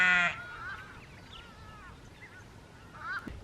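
Sheep on a South African smallholding, with one loud bleat or honk-like call at the start, then faint chirping and calling animal sounds in the background and a short sharp noise near the end.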